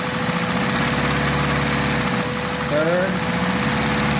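A Lego vacuum engine drives a 10-speed Lego transmission through its gears, making a loud, steady mechanical whir with a pitch that rises briefly as it shifts. Someone says a single word over it.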